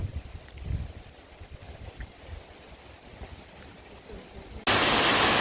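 Riverside camp at a whitewater village in Meghalaya, where rushing river water makes a steady broadband wash with faint insect chirps mixed in, continuous and moderately loud, ending with a sudden louder burst of rushing noise.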